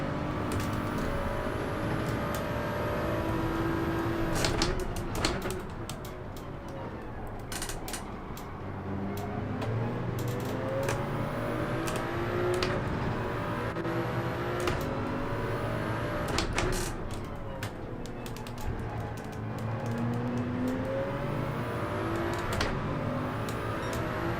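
Racing car engines from Gran Turismo 7 at Daytona International Speedway, an underpowered Toyota Supra chasing a Ford Mustang in a Group 3 race, droning steadily with shifting pitch and sharp clicks, no talk.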